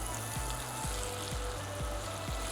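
Tilapia simmering in curry over a low flame gives a steady, soft bubbling hiss with faint periodic low pops, continuous and close, with no voices.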